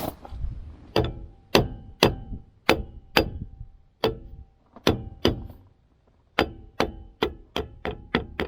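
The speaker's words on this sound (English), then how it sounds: "Get our trusty hammer and peg on it." Sharp metallic clangs of a hammer on a 1973 Plymouth Scamp, struck one after another, about a dozen blows at an uneven pace, each ringing briefly before the next hit.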